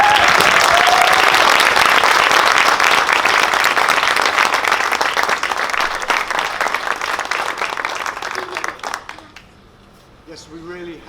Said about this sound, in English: Could we have the biggest round of applause ever,